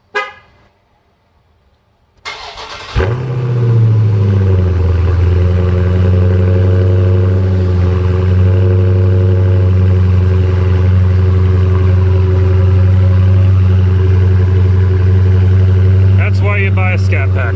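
A Dodge Scat Pack cold-starts after a pause, its engine catching with a loud flare that settles into a deep, steady high idle, droning loud and close for over ten seconds with a few brief noises near the end.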